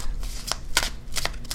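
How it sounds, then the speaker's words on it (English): Someone shuffles a tarot card deck in several quick riffling bursts, crisp and close, with short pauses between the flurries of snapping cards. "let's go ahead and give a nice shuffle."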